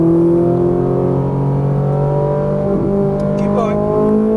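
A Ferrari 458 Italia engine drones steadily and loudly on a racing track, its pitch holding high and then shifting as the car accelerates, with a faint higher whine near the end.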